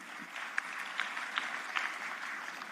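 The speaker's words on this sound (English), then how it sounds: "A round of applause." Audience applause at a tech summit rises faintly as a soft, distant wash of clapping, with a few sharper claps standing out at intervals.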